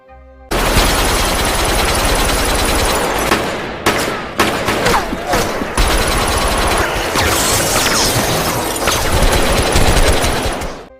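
Dense, loud gunfire from a Korean gangster film shootout, rapid overlapping bursts and single shots with crashes and brief pauses, filling the whole scene.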